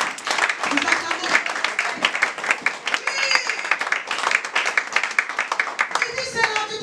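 A church congregation claps steadily throughout, with voices acclaiming over the dense rhythmic applause, loud and close.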